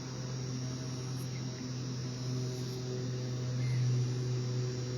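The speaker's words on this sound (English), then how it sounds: "All the sounds of the crickets, of all the other birds, it's rich." Crickets chirping outdoors in a constant, dense, even chorus with a steady hum beneath, at a moderate level and not interrupted.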